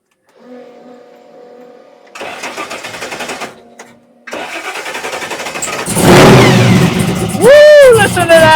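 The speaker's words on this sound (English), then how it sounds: "Listen to that. Listen to that blower." A supercharged V8 in an 801 hp Chevy II cranks, stutters, then catches and fires up into a loud rumbling idle before revving sharply with a whining blower.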